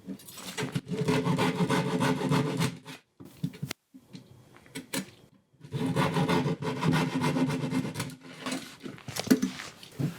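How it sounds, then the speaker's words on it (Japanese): A carpenter's hand saw cuts timber while a workbench is being built, with rapid rasping back-and-forth strokes close up in two long bursts separated by a short pause with a few light knocks. "あとこの刃が入らない部分は手ノコで切ります。"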